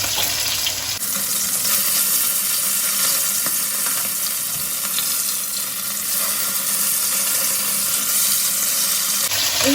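Bata fish frying in hot oil in a home kitchen, a steady loud sizzle and crackle running continuously throughout, with no talking over it.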